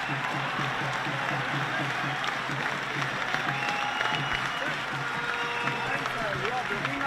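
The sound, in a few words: crowd applauding a rugby player leaving the field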